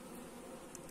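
Honey bees buzz at a hive during an autumn colony inspection, a faint, continuous, even hum of many insects with no voices over it.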